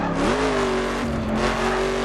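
A Ford Mustang in the racing game The Crew takes corners with a loud, steady engine drone whose pitch dips and rises, with faint hints of tire scrub and no talking.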